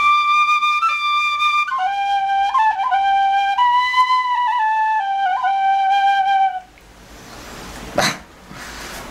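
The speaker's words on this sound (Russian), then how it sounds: "как и этот ирландский свисток." A tin whistle plays a clear, bright melody of sustained and stepping notes, then stops, followed by a brief thump.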